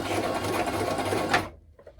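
Sewing machine stitching teddy bear fabric, running steadily and close for about a second and a half before stopping abruptly, leaving near silence.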